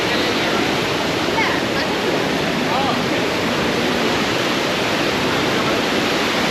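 Constant roar of the waterfall at Sungai Chiling fish sanctuary, a dense hiss of falling water close by, unbroken and even the whole way through with no pauses.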